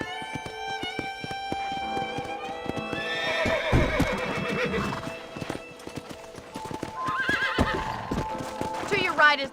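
A horse whinnies several times over the steady clip-clop of hooves on a ranch in a Red Dead video game, with a person speaking at moments.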